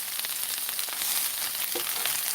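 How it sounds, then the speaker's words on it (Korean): Korean chive pancake (buchujeon) fries in a pan with a constant soft sizzle, close by and fairly quiet. "부추전을 좀 부치는 중입니다."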